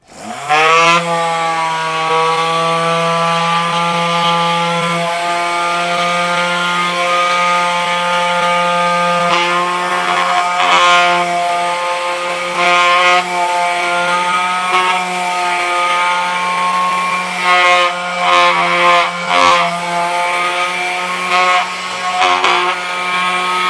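A Bosch GSS 140 orbital sander runs continuously on planed but unsanded pine, giving a loud, steady motor hum with rougher bursts of scraping as the pad works the wood.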